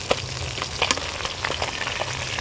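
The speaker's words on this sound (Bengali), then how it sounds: "এবার মাছটা উল্টিয়ে দেবো" Fish frying in a pan as it is flipped over, a steady close sizzle with scattered crackles and pops running throughout.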